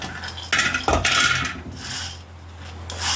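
Peanuts poured into a pan while making a spice powder after roasted rice is removed: a rattling, scraping rush of small hard pieces on metal, close and fairly loud, then softer stirring clinks, with no talk.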